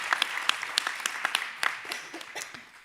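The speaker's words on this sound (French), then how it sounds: "je crois qu'on peut les applaudir" Scattered applause follows a business presentation in a small room, a few distinct claps standing out over a light, thinning patter that fades by the end.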